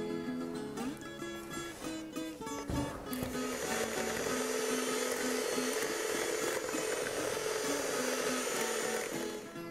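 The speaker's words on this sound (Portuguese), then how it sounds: "Depois que misturou com a colher, vamos bater com a batedeira." An electric hand mixer beats batter in a rural kitchen, starting after a few soft knocks and then whirring steadily at a high, even pitch until the end.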